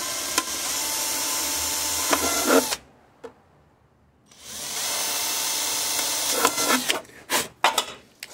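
A power drill with a 7-point-something millimetre bit whines steadily as it bores, stops for a moment, then drills again before cutting out in a few short bursts.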